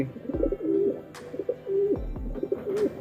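Racing pigeons coo in a repeating series of low, throaty calls, fairly close and clear against a quiet background, with no talking.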